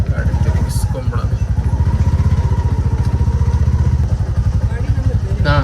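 An auto rickshaw engine chugs loudly and steadily at close range in a fast, even putter as the vehicle turns around, with no pause in the running engine.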